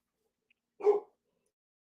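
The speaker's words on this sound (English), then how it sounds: "Dogs were going haywire." A single short dog bark or yelp, fairly close and moderately loud, stands alone against otherwise quiet background.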